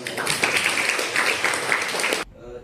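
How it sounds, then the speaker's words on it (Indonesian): A high-school classroom of students claps for their classmates' answers, a brief burst of steady group applause that cuts off abruptly and gives way to quiet. "Kita kasih aplaus untuk jawaban teman-teman"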